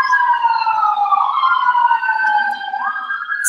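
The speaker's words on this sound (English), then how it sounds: "I hear some sirens in the background now" Wailing emergency sirens rise and fall outdoors in the background, several harmonic tones sliding in pitch at steady moderate loudness throughout, with no voices over them.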